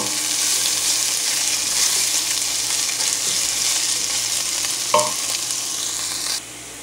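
Onion fries steadily in a hot pan until reddish brown for cauliflower pulav, a dense continuous sizzle up close with one brief clatter of stirring near the end before the hiss drops slightly.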